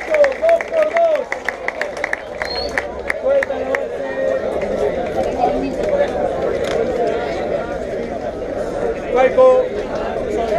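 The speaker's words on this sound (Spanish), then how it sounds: "¡Fuerte las palmas!" Crowd at a freestyle rap battle final clapping hands in a steady rhythm, loud and continuous throughout, mixed with shouting voices and hubbub.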